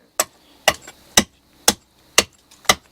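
An adze chops into wood while a spoon is carved by hand, six sharp, evenly spaced blows ringing out alone with quiet pauses between them.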